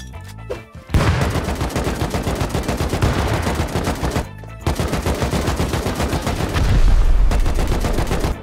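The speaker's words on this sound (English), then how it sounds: "I'm gonna rocket one more time and it should be gone." Sustained rapid gunfire bursts with booming hits from rockets and grenades in Rust, loud and close, broken by two brief pauses, with a heavier rumble near the end.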